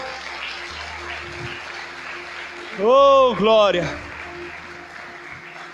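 A church congregation applauds through a lively service, a steady wash of clapping and crowd noise under a voice that calls out loudly for a moment midway.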